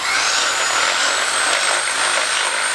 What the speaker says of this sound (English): I drilled holes through the dust covers